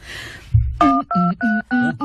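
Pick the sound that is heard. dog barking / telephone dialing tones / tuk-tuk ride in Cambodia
telephone dialing tones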